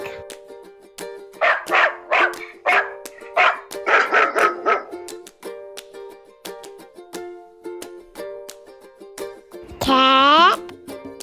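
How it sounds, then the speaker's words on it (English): A dog barks in a quick run of loud, close yips and woofs, then gives a single drawn-out whine, all over light background music. "Dog,"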